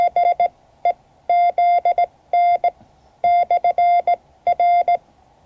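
An amateur radio repeater sends its call sign in Morse code: a clear, steady single-pitched tone keyed in rhythmic short and long beeps, grouped into characters with brief gaps between, heard alone and close.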